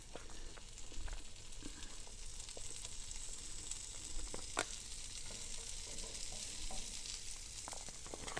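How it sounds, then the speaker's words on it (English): Corned beef warming and browning in a hot pan gives a steady close sizzle and crackle, with a few sharper pops and spatters breaking through the frying hiss. "I'm going to put the corned beef in to warm up like that and get a little brown."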